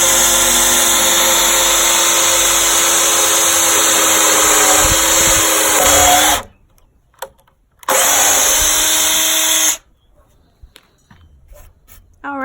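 A power drill whines loudly and steadily as it pre-drills a hole in the wood of a 4-by-4-foot raised garden bed. A brief pause breaks the run, then a second short burst follows.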